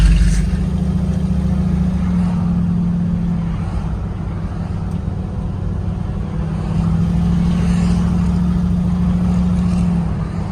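Ford F250 pickup truck on a test drive, heard from inside as a loud steady engine drone with low hum swelling and easing, continuous road noise and no talking.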